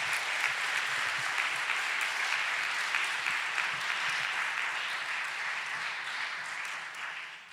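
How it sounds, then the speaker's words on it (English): Steady, dense audience applause for children's recorder players at a Christian school evening of the arts, a continuous crowd of clapping that holds for over seven seconds before tapering slightly. "One more round of applause for those recorders."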